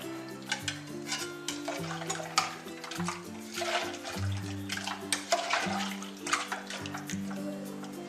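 Ingredients for chicken donuts are stirred and mixed in a bowl, irregular wet squelching and scraping strokes in quick succession, close and moderately loud, with no voices.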